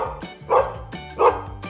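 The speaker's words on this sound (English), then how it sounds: "Yes, dog. Woof, woof." A dog gives two close, sharp woof barks about half a second apart, over soft background music.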